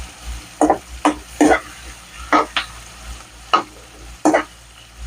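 Onion and curry leaves sauté in a pan for egg masala: a soft sizzle under repeated bursts of scraping as a spoon stirs them, roughly eight distinct strokes in uneven rhythm, close by with no voices.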